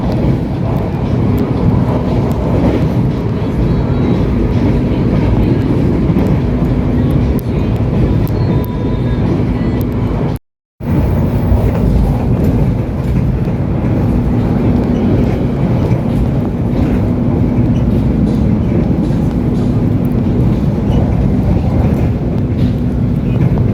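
A KRL electric commuter train runs straight through Cikarang station, a loud continuous rumble and rush with wind buffeting, broken by one brief dropout midway.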